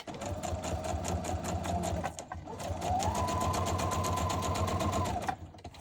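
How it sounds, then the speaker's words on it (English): A sewing machine stitches through a paper tag with a fast, steady mechanical whir. The run pauses briefly midway and then speeds up into a higher-pitched second burst before stopping. "That felt like a lot of stitching for one tag"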